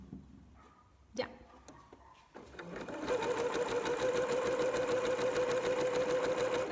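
A sewing machine stitching T-shirt fabric, starting after a few faint bumps and clicks, then running steadily and fast with an even whirring rattle close by.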